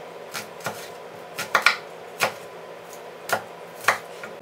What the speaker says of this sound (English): and then go ahead and chop it up